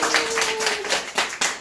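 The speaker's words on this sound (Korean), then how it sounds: "자, 우리 하얀 마음 다 같이 박수!" Children in the audience of a daycare puppet show clap together in short, uneven bursts. Faint voices mix in, and one brief tonal voice is heard near the start.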